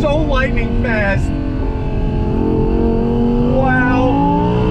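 A 2020 Audi R8 Spyder supercar pulls hard under acceleration, its engine note rising in pitch with rapid upshifts, loud and close throughout, with excited voices talking over it.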